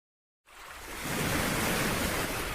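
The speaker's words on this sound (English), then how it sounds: "and then waves or beach." Ocean waves washing onto a beach, a sound-effect track that starts abruptly after a brief silence and swells into a steady, loud, hissing surf roar.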